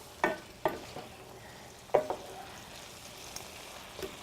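Lamb meatballs being stirred in a frying pan, a few distinct scraping knocks of the utensil over a faint low sizzle, spaced irregularly with quiet gaps between them.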